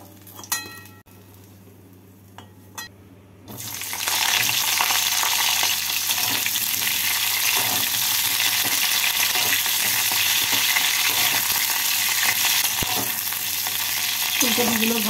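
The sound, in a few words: cauliflower frying in oil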